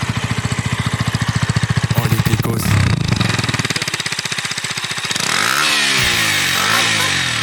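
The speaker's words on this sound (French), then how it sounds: "Une 125 sans ligne, les gars. Ça fait un bruit de scooter." A 125cc motorcycle engine without an exhaust pipe rattles loudly and harshly up close, revving and then climbing in pitch, with a brief spoken exclamation.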